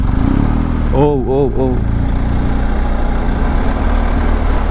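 Steady low rumble of an idling BMW R 1250 GS Adventure motorcycle engine, loud and close throughout, while someone talks briefly over it near the start.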